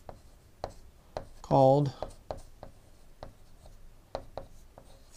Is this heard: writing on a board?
yes